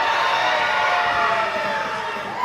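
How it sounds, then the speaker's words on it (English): Arena crowd at a live wrestling event at the Gulfview Event Center cheering loudly and continuously, a dense roar of voices with a steady high whistle-like tone running through it. "Romero, they're cheering too loud and I can't hear the hit."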